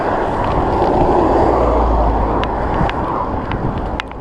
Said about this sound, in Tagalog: Maganda panahon, maliban na lang sa hangin